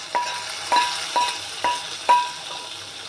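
Fried onions go into a pot of cooking nihari: a soft sizzle under about five evenly spaced metallic clinks of a spoon against the pot.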